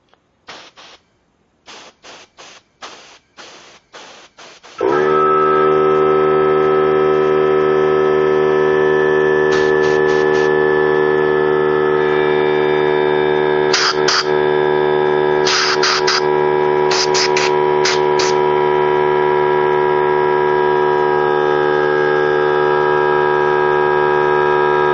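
Compressed air hisses steadily through an HVLP gravity-feed spray gun held open on the trigger, a loud continuous rush lasting about twenty seconds after a few short bursts, with brief sharper spurts partway through.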